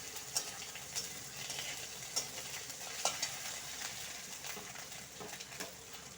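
Stone-ground ginger and garlic paste fries in a pan of browned onions for lentil dal, giving a continuous sizzle broken by sharp, repeated spatula scrapes and clinks as it is stirred.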